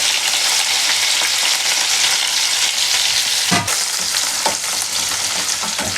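Onions frying in hot oil with cardamom, cinnamon and cumin, a dense steady sizzle filling the whole stretch, loud and close, with one sharp crackling burst partway through as more goes in.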